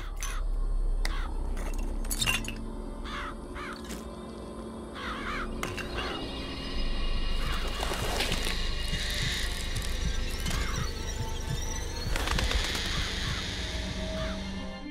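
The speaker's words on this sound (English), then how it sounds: "Press to summon murderous crows." Summoned murderous crows in BioShock Infinite caw and flap in a dense, near swarm, with repeated harsh calls layered over a steady game-world hum for the full stretch.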